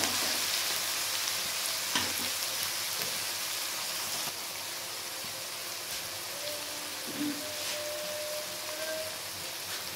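Onions frying in a pan for mutton curry, giving a steady, fairly quiet sizzle with faint crackles and occasional light stirring, no voices.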